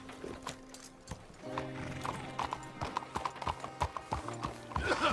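In the video game Red Dead Redemption 2, hooves clip-clop at a quick, uneven pace while a horse whinnies, with a voice briefly speaking in the background.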